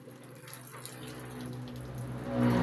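Water poured into a pot while cooking, a splashing stream that grows steadily fuller and louder toward the end as the level rises, heard alone without speech.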